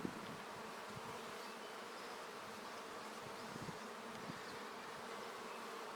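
Honey bees buzz steadily at an open, large early-season colony during a hive inspection, a dense continuous hum filling the whole stretch at close range, with a few faint handling knocks underneath.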